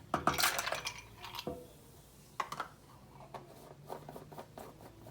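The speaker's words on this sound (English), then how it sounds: "You're gonna add some ice cubes in there." Ice cubes clinking and rattling into a glass container while mixing a fresh ginger and star anise gin and tonic, a cluster of sharp close clinks at the start followed by a few scattered knocks, with no talking.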